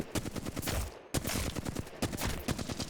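Dense, rapid bursts of automatic gunfire from an Apex Legends firefight, loud and close, with short gaps between volleys and no talking.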